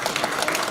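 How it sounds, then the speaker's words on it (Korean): Audience applause at a Korean political speech by Lee Jae-myung in Gangwon, a dense, steady burst of many hands clapping together, fairly loud, with no talk over it. "박수 한번 쳐주세요"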